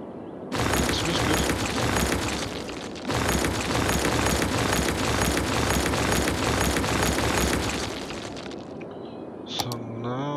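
Buildings being demolished in the city-building video game Cities: Skylines, a loud sustained crumbling roar with dense crackling debris, cutting out briefly then continuing for several seconds before fading, with a brief voice near the end.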